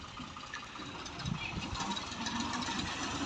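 A Ghazi tractor running a reaper through a wheat field in the Punjab countryside drones with a steady, moderately loud engine rumble and a faint knocking rhythm.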